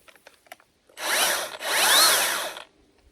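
A fast-chain Milwaukee brushless pruning saw bites into backyard tree limbs in two close, loud buzzing bursts, with a short pause between them and quiet before and after.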